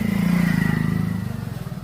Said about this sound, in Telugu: బైక్ పోయిందట